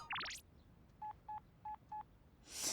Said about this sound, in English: we've got a lot of beeps on our phone